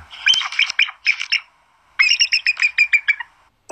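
Bald eagle call in two bursts of rapid, high, chattering squeaky notes, the first a stuttering run of about eight chirps, the second a longer descending string after a short pause, close and clear with no talk.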